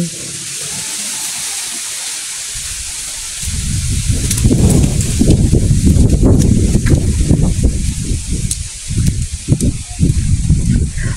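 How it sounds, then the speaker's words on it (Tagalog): Steady rain hiss with gusting wind, the roar thickening and pulsing after a few seconds, close and fairly loud throughout. "Kaning nagdinaguok mga jay, ulan kani og hangin."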